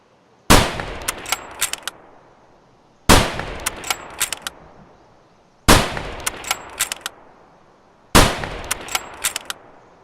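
Four evenly spaced rifle shots ring out during test firing at 200 m in Escape from Tarkov, each a loud, sharp crack with a decaying tail and faint metallic pings.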